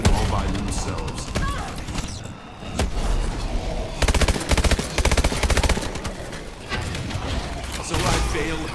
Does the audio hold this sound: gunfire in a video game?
yes